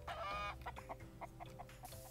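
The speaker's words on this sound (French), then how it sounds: "On va aller voir nos petits poulets qui n'ont plus à manger quasi." Chickens in a Roblox Skyblock farm cluck close by, a quick run of short, clipped clucks in an uneven rhythm, starting with a louder burst and then pecking along alone without any talk.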